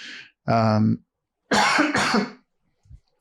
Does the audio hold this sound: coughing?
yes